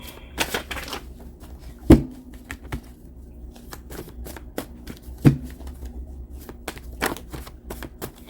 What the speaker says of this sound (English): let me shuffle these cards 3 times